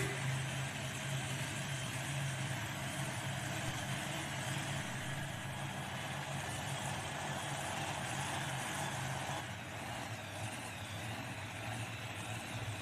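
Cotton Candy, a twin blown Hemi pulling tractor dragster at an outdoor event, a steady rough engine idle with a constant low rumble and broadband noise running the whole time.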